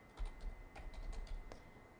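Quiet, irregular clicks of typing on a computer keyboard come in short bursts of keystrokes with small gaps, heard close up in a calm room.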